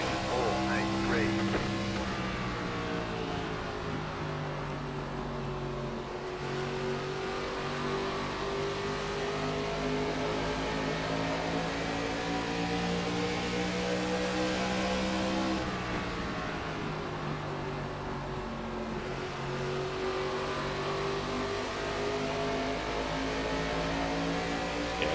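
An ARCA West Series race car in the iRacing NASCAR game at Phoenix roars continuously, its engine revving and rising in pitch as it drives through the corners, with the loud drone filling the whole stretch.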